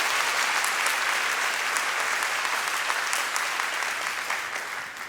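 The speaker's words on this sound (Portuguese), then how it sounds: "Pode dar uma salva de palmas ao Senhor" Sustained applause from a church congregation, a dense, steady wash of many hands clapping at close to mid distance, holding level before easing slightly toward the end.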